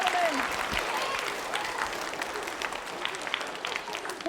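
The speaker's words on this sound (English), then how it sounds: "give her a round of applause, ladies and gentlemen" Audience applause in a school lunchroom setting, dense steady clapping that fills the room at moderate loudness, with a few voices faintly underneath.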